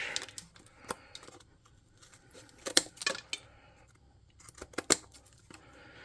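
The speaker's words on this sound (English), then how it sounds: "let's come up here with our scissors and cut these flush" Scissors snip repeatedly through craft pieces while trimming them flush on a handmade goblin airship model for a tabletop RPG, sharp close cuts in irregular bursts separated by quiet pauses.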